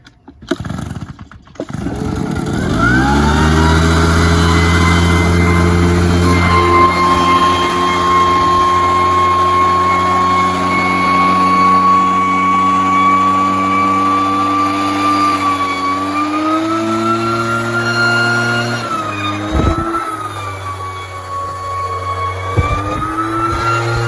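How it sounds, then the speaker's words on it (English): A small two-stroke leaf blower engine with a freshly cleaned carburetor is pulled to start, catches and then runs loud and close at a steady high whine, with slight pitch shifts near the end. "Then you simply just turn the choke on, fire it up, and then see if it runs right."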